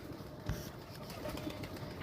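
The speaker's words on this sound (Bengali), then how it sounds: "এখানে আছে অনেক জাতের কবুতর" Pigeons of several breeds coo softly in a loft, a low murmuring coo rising briefly near the middle and otherwise blending into a steady background hum.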